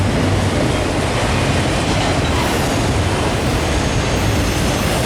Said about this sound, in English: 392's a long train today.